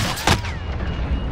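Video game gunfire: a short burst of shots cracks out early, followed by a rumbling, echoing tail of distant fighting.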